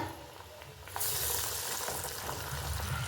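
Chana dal vadas sizzle steadily in hot oil, a close, continuous frying hiss that swells louder after the first second.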